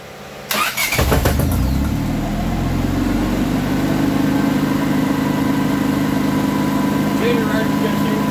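A generator engine cranks with a starter and catches at about one second, then settles into a steady, loud running drone for the rest of the stretch.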